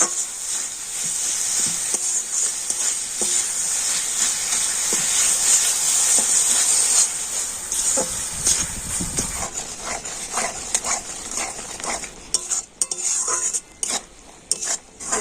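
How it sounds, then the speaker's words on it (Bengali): Sugarcane jaggery and grated coconut are stirred together in a pan, a steady hissing simmer with repeated close scraping and clinking of the spoon against the metal. "এখন আমি আখের গুড় আর নারকেল গুঁড়োটা কিন্তু খুব ভালো করে মিশিয়ে নিচ্ছি"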